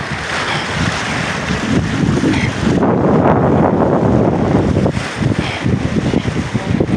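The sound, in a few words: wind at the lakeshore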